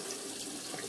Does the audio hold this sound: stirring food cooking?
no